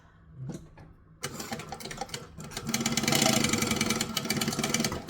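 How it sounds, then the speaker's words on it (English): A sewing machine top stitches a folded panel on a small crossbody bag, its motor starting after a quiet moment and then running in a steady, close, fairly loud whir with a rapid stitching rhythm. "we're going to fold this third one here, and we're going to top stitch."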